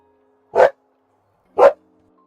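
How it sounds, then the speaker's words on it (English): An excited dog in the video game Honkai: Star Rail gives two short, clear barks about a second apart, close and loud against silence. "The dog gets so excited."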